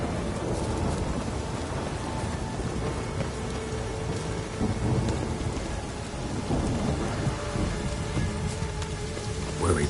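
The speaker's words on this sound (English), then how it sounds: "The storm, damn it." A heavy thunderstorm rages in the video game The Witcher 3: Wild Hunt, with a steady dense roar of rain pouring on surfaces and low rumbling thunder rolling underneath throughout, with no voices.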